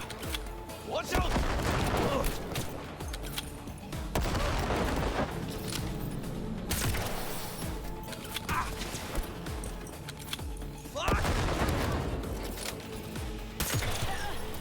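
Gunfire crackles in Cyberpunk 2077 combat, with repeated bursts of rapid shots and booming impacts coming in waves, mixed with game sounds and occasional talk.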